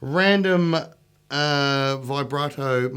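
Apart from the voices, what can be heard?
No distinct noise like a dog, phone or traffic.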